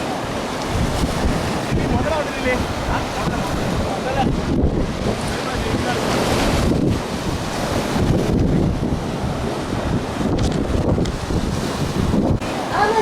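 Surf breaking at Golden Beach in Chennai under constant heavy wind buffeting the microphone, a loud continuous roar throughout.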